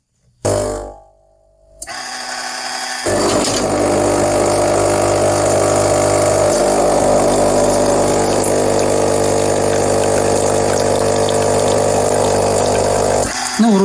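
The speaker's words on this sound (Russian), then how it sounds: "Вода бежит в чашку, а не в поддон." A Krups coffee machine pump drones loudly and steadily for about ten seconds as water runs into a cup, after a brief opening burst and gurgle, then cuts off abruptly at the end.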